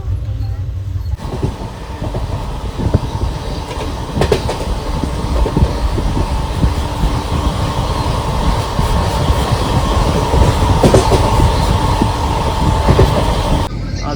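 A long-distance passenger train rumbles steadily along the rails, heard from aboard, with a continuous clattering roar, close and fairly loud, with faint voices mixed in.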